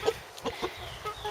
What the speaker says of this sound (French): voilà, notre coq cochin